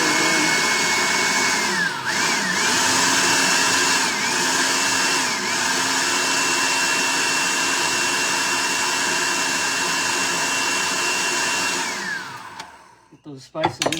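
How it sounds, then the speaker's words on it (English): A food processor blends chickpea hummus with spices, its motor droning at a steady, loud whine for about twelve seconds before winding down and stopping. "let's run the old food processor in"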